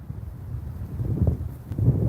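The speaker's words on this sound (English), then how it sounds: "Yeah, it is windy today" Wind gusts on a windy day at a Florida fishing spot, heard as low buffeting rumbles against the microphone that swell stronger toward the end.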